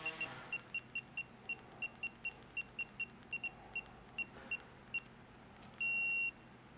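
A digital torque wrench beeps in a quick, even series of short, bright tones while a nut on a Z1 ported intake kit for an Infiniti G37 is tightened, ending in one longer continuous beep. The beeps are close and fairly quiet.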